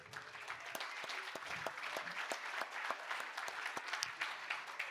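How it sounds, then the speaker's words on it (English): An audience at a hybrid fundraising gala and live auction gives a round of applause, a dense, even patter of many hands clapping, heard at moderate distance and fairly quiet, with no one speaking over it. "So how about a nice round of applause for Jim and Jaqueen Fisher?"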